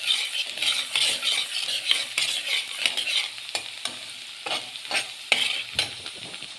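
Onions fry in a pan until browning, with a bright continuous sizzle and repeated close scraping strokes of a spoon stirring them at an uneven rhythm.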